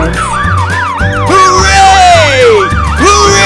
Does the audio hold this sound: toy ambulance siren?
yes